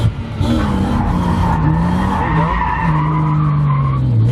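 A BMW E36 drifts at a drift event, tires squealing loudly and continuously over a revving engine whose pitch wavers up and down, close and without talk.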